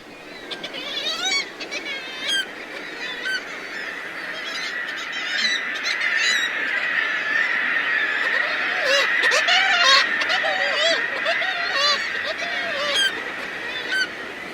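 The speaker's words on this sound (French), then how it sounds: "elles font un bruit en faisant kittiwake, kittiwake, kittiwake, kittiwake tout le long" A colony of kittiwake gulls calls in a dense chorus, many shrill, repeated nasal cries overlapping continuously from near and far, with no pauses throughout.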